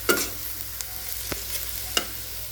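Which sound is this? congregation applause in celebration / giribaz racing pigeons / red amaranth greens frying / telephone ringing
red amaranth greens frying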